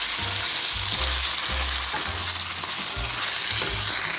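Cheeseburger casserole mixture with ketchup being stirred in a pan, a steady sizzle under repeated low scraping and thudding strokes of the spoon, close and continuous.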